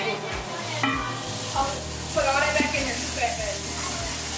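Onions and garlic hitting browned roux in a pot for vegetarian gumbo, giving a steady loud sizzle with scraping and stirring clatter over it.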